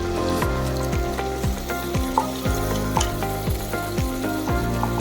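Ground masala paste for North Karnataka village-style mutton curry frying in a pan, a steady, close, continuous sizzle with occasional stirring scrapes throughout.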